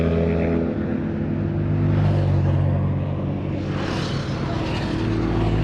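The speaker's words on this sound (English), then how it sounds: "These frickin' motorbikes, man." Motorbikes pass on a scenic mountain road in the Dolomites near Vigo di Fassa, their engines droning and rising loud and close in overlapping waves of revving.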